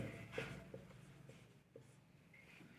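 A pen scratches steadily across paper while notes are written, a faint, close, continuous rasp with small strokes and pauses, no voice over it.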